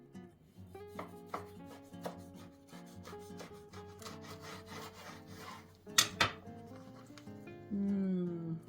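A knife cuts a hot pan-fried onion and cheese flatbread on a board, giving a steady run of close, crisp chopping taps, then a louder sharp crunch near the end.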